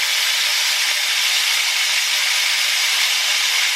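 Beef pot roast searing in a hot pan, a loud, continuous, even hiss of fat sizzling close by with no speech over it.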